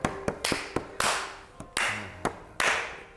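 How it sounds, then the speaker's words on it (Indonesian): Bare hands clapping in a podcast studio: roughly eight sharp, separate claps in an irregular rhythm, close and fairly loud, each with a short room ring and nothing else around them. "Tepuk tangan ya, tepuk nyamuk."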